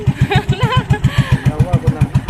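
A motorcycle engine starts and settles into a rapid, even idle, close and moderately loud, with a person talking over it.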